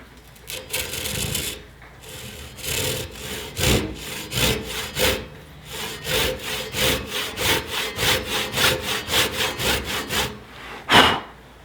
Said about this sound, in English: makes sawing a whole lot easier